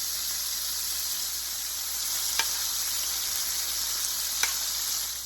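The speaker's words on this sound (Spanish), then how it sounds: "Y ahora que ya están sofritas, las vamos a retirar." Dried fish patties for a Salvadoran recipe fry in a pan with a loud, continuous close sizzle, broken by two brief clinks.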